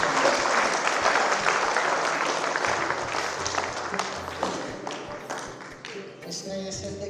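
Loud applause from an audience at a Hindi poetry gathering, strong at first and gradually thinning over seven seconds, with a few voices and scattered claps near the end.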